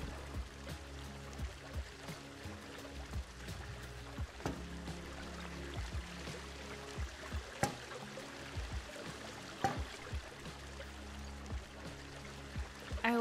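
Waterfall-top water effect placed among rocks in the Planet Zoo building game, giving a steady pouring, trickling rush with faint clicks and small splashes throughout, fairly quiet and with no talking.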